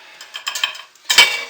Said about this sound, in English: scrape this side out and get it into the mold